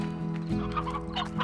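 Elder hens clucking in the Slime Rancher video game, a short run of close, repeated clucks over a steady low background hum.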